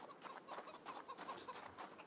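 Chickens clucking in the Project Zomboid video game, a busy run of overlapping clucks and short squawks from a farm flock, steady and fairly close with no talking.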